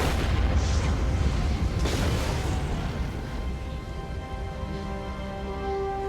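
A loud, deep explosion from a Supergirl TV episode rumbles through a booming low burst near the start, then decays into a long roaring, crackling tail over about six seconds, with no speech.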